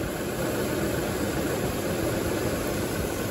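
Mercedes-Benz gasoline engine idling with one spark plug disconnected, a steady close rough hum with broadband hiss and no voices.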